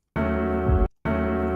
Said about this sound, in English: To me, this is the sound of diminished.